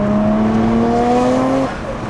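A Nissan Skyline R33 GTR with a titanium exhaust accelerates, its engine note a steady rising drone that holds loud and close for over a second and a half before cutting back to a lower idle-like rumble.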